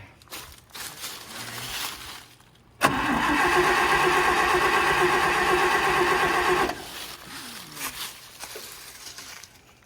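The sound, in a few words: old truck engine cranking and starting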